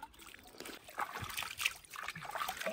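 A bamboo tube is washed under running river water, with faint trickling and sloshing splashes that continue unevenly throughout.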